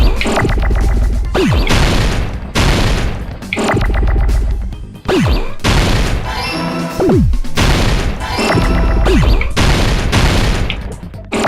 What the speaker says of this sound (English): fire grenade.